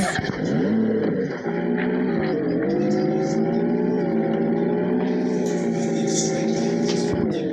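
A car engine in a video game hums loudly and steadily, its pitch shifting slightly as it accelerates and cruises, with brief tire and road noise layered on top.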